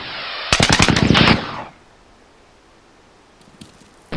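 Loud, rapid machine gun burst in Arma 3 military game, a dense rattling volley lasting about a second, then near silence with faint distant clicks and a brief crackle at the end.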